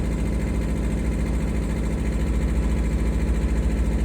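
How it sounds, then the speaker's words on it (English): A Yanmar 18-horsepower GM2 two-cylinder marine diesel drives a boat, chugging in a steady low, even idle-like drone that stays close and constant for the whole stretch. "It's a pretty quiet motor for a motor, you know? Yanmar, 18 horsepower."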